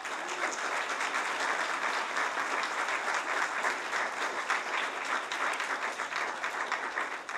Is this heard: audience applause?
yes